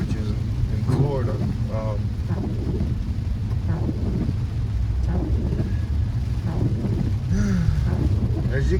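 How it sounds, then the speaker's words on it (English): Rain falling on a car driving through Southwest Miami, Florida, a steady loud patter and hiss with road and wind rumble throughout, and a few faint voice-like sounds underneath. "As you can see right now, it's raining."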